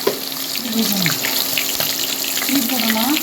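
Chicken pieces fry in hot oil for a home-style chicken gravy, giving a steady, close sizzle and hiss that runs through the whole moment, with a faint voice murmuring underneath.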